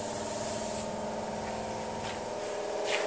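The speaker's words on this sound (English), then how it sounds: "And here he is spraying the convertible top frame." A spray gun lays epoxy primer onto a sandblasted convertible top frame from a Triumph TR250 under restoration, giving a steady continuous hiss with a few brief bursts, close and fairly loud.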